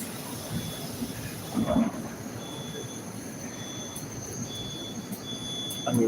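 A Moscow metro train runs underground with a steady rumbling roar, thin high wheel squeals recurring, and a brief louder clatter midway.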